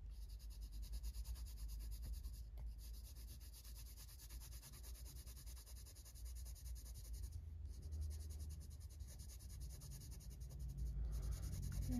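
Coloured pencils being worked across a colouring page of a polar bear: a soft, steady scratching and rubbing of lead on paper. It is close and continuous throughout, with brief pauses and no talk.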